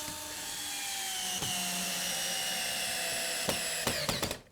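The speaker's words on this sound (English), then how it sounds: "I'm going to attach these together with some 3-inch screws" A power drill runs in a long steady whine driving 3-inch screws into a 2x4 wall frame, then several short bursts and stops near the end, fairly close and alone.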